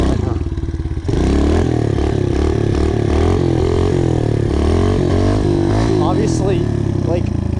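A pitbike engine is revved hard through a wheelie, climbing and falling in pitch as the throttle is worked, loud and close with some rattling clatter.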